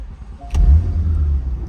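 A 2016 Porsche 911 Carrera S Cabriolet engine firing up, a short starter click followed by a loud, deep roar that settles into a strong, steady idle, heard close and alone.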